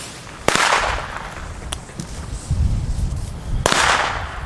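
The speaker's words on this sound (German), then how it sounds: "wir testen jetzt wie versprochen die B-Böller von Katan" Katan B-Böller 1.5 gram firecrackers go off outdoors: two sharp, loud cracks about three seconds apart with a fainter pop between them, over a low background rumble.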